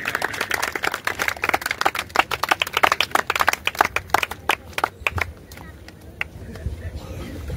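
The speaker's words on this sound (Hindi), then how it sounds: "कृपया एक बार हमारे मुख्य अतिथि के लिए जोरदार तालियां" At a children's sports event in Ranchi, an audience gives scattered, uneven clapping for the chief guest, the claps crisp and close at first, then tapering off into sparser claps with some voices underneath.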